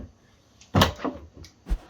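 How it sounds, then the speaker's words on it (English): A Tesla Model 3 door is shut from close by, giving a solid thump followed by a second shorter knock a moment later. "And we can shut the door."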